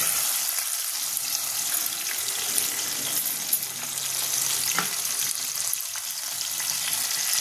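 Ginger-garlic-onion paste with a splash of water, whole green chillies and tomato sizzle and hiss steadily in a hot pan, a continuous close frying crackle with faint stirring.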